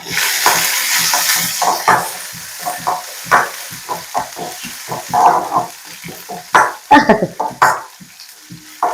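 Curry leaves and chopped onions sizzle in a pan while being stirred for pineapple pachadi, with loud, irregular scraping and clattering strokes over a steady frying hiss.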